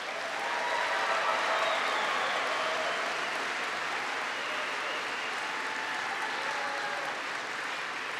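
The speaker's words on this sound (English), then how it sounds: "Let's give him a round of applause." An audience applauding President Obama at a Capital District event in Albany: dense, steady clapping from a large crowd, sustained and fairly even throughout, with no speech over it.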